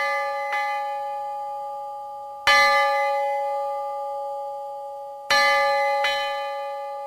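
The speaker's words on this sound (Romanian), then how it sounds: "cu acest clopot se anunță când se începe lucrul la mănăstire" A large monastery church bell rings out in three loud clangs a few seconds apart, each one a bright metallic strike whose long humming tone slowly dies away, with a fainter tap in between.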